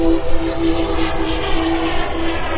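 An RC turbine jet model of the SR-71 Blackbird flies at an air show, its steady high turbine whine and roar sustained and fairly loud throughout.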